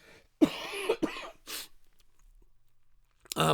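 Several close coughs in quick succession, harsh and throaty, followed by a pause and one more cough at the end.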